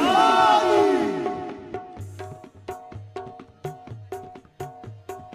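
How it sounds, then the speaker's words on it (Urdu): A large crowd at a qawwali gathering for Khwaja Garib Nawaz shouts the Haidari religious slogan in unison, a loud swelling roar, followed by rhythmic drum beats of the music continuing. "پانچ نعرے پنڈتن کے ایک نعرہ حیدری"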